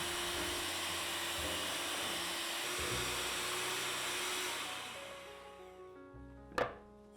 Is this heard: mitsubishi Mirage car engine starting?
no